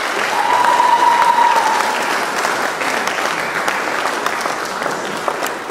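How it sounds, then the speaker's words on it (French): Wedding guests at a religious ceremony applaud the parents, a loud and steady round of clapping from the assembled crowd that holds throughout, with a faint whistle early on. "C'est pourquoi je vous demande d'applaudir pour les papas et les mamans qui sont là."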